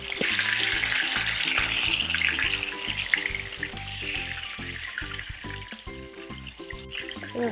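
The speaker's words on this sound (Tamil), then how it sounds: "ஒரு மீடியம் ஃப்ளேமோ லோ ஃப்ளேமில் வச்சுட்டு கொஞ்சம் ஸ்லோவாக பண்ணாவே சிக்கன் வெந்துடும்" Chicken pieces for cheesy chicken fry in a pan over a medium flame, giving a steady, close hiss and crackle throughout, with a tonal background melody beneath and no speech.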